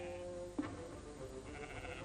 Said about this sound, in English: passing some goats patiently waiting their turn at the trough